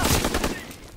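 Gunfire in the World War II shooter Call of Duty: WWII during a team deathmatch, a loud, dense burst of rapid overlapping shots filling the whole second, thinning slightly toward the end.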